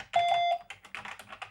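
Keys pressed on an Amstrad CPC 464 home computer keyboard that is being repaired: a steady electronic tone first, then a quick run of close, light clicking taps.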